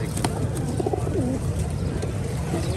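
Pigeons coo softly in low, throaty bursts against a constant background rumble, heard at a rooftop pigeon loft.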